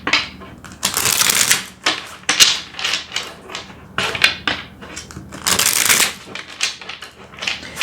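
Tarot cards shuffled by hand in a run of quick, crisp riffling bursts that rise and fall steadily and sit close and fairly loud, with no talking.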